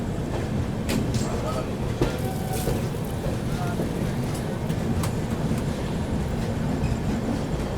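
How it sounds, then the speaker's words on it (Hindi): Inside a 2AC coach of the 12141 Patliputra SF Express skipping Katni Junction, a loud continuous wheel rumble carries on, with scattered rail clicks and knocks over the even roar. "फिलहाल अपनी ट्रेन जो है यहाँ पर कटनी जंक्शन स्किप कर रही है दोस्तों"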